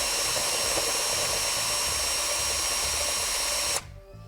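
A hot tapping machine cutting into a ductile iron pipe under a concrete layer: a loud, steady, high-pitched grinding whine that holds evenly, then cuts off abruptly near the end, leaving a faint hum.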